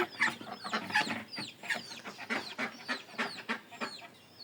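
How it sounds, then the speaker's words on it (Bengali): Repeated clucking and squawking of ducks in a poultry house nearby, a busy cluster of short calls in an irregular rhythm. "হাঁস মুরগির ঘর হাঁস কিন্তু শব্দ করতেছে"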